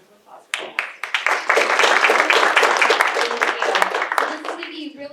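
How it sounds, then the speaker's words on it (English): Scattered claps build into a moderate round of applause from a small audience welcoming a speaker at a county sustainability talk, then taper off. "let's give her a round of applause"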